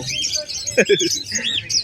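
Yellow-face opaline budgerigars at the Malabon pet market chirp in a steady, busy stream of high twittering calls, with a brief louder burst of chatter near the middle.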